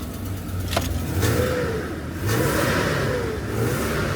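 A BMW E39 car engine revs up repeatedly nearby, rising and falling in pitch over a steady idle, with no voices.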